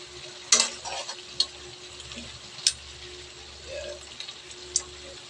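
A wok sliding and scraping on a stovetop while duck adobo cooks, with sharp metallic knocks at irregular intervals over a steady low sizzle and stirring.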